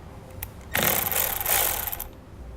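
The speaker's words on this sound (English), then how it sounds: "I'm going to take a 10mm socket and loosen that nut up" A ratchet with a 10mm socket loosens a battery terminal nut on a 2009 Jeep Liberty, a single burst of rapid clicking about a second and a half long, close by, preceded by a faint tap.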